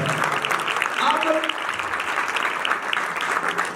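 Sustained congregation applause during a Hindi-language church service, dense clapping filling the space throughout with voices faintly mixed in underneath.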